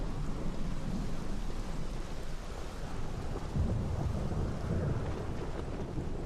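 Steady, dense rain in the video game Morrowind, a constant hiss with low rumbling thunder, with no voices over it.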